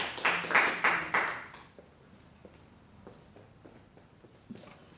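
Applause from a church congregation, a burst of clapping near and full that fades after about two seconds, leaving quiet room sound with a few soft knocks.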